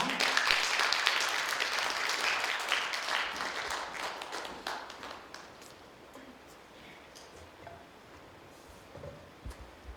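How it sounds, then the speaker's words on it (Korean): Audience applause greeting a poet onto a concert stage, strong at the start and tapering off gradually into scattered claps and quiet room noise. "여러분 큰 박수로 맞이해 주세요"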